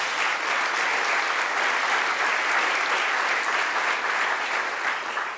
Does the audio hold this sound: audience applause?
yes